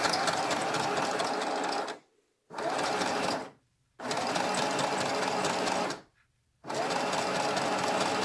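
A sewing machine stitching fabric, running in four steady, even bursts of close mechanical whirring with short silent pauses between them.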